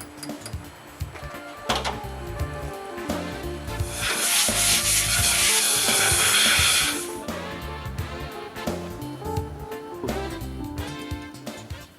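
Fuel valve seating surfaces of a small bore engine being lapped with a grinding mandrel and No. 500 carborundum; a gritty, steady rubbing scrape swells for a few seconds mid-clip over continuous background music.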